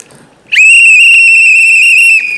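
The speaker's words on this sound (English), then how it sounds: "these whistles are ringing loud" A single loud, piercing whistle blast rings out at an election results celebration, a sustained bright tone holding for nearly two seconds after a quiet start, then cutting off abruptly.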